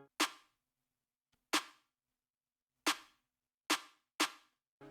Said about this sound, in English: I forgot I added a bit of reverb to the snare